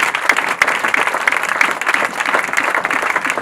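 A church congregation claps and applauds during a Sunday service, a dense, continuous roar of many hands at a fairly loud, steady level, with occasional sharper claps standing out.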